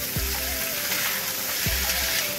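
Tomatoes frying in oil in a pan for an Assamese fish curry, a steady close sizzle with two brief stirring scrapes and no talk.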